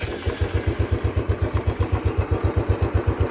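A Royal Enfield Classic 350 motorcycle engine, treated with carbon cleaner, idles nearby with a steady, even thumping beat and a light mechanical clatter, alone and loud.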